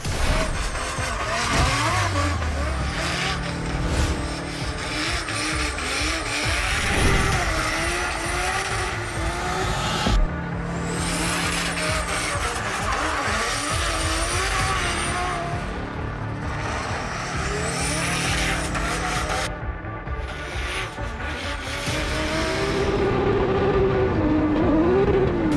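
A Nissan S15 race car driven hard on a track, with a loud, sustained engine roar that rises and falls through gear changes, plus occasional tire squeal, close and continuous throughout.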